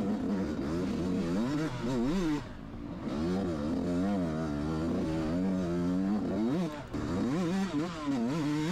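A KTM 250 dirt bike engine revs during a motocross race, its pitch climbing and falling repeatedly at close range. There are brief cut-outs partway through.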